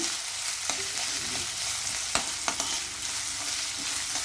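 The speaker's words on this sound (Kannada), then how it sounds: "ಇದೆಲ್ಲ ಚೆನ್ನಾಗಿ ಫ್ರೈ ಮಾಡೋಣ" Onions and a handful of green chilies fry in a pan for mango chitranna, giving a steady broadband sizzle with a few soft stirring clicks, close and continuous with no voices.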